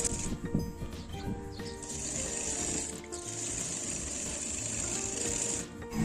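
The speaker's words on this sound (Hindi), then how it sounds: "इसको उल्टा करके फिर इस पर फिटिंग की सिलाई लगाऊंगी" A sewing machine runs steadily for about six seconds, stitching the fitting seam of a lined blouse. The motor whirs close up with a continuous hum and a faint high whine, and no one speaks.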